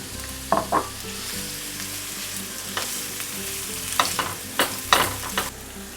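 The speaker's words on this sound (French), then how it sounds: "Alors, vous rajoutez à peu près un petit filet d'huile d'olive. Ensuite, en premier, vous rajoutez les oignons." Onions frying in olive oil in a pan for paella hiss and sizzle steadily, with a few louder crackles and stirring scrapes at intervals.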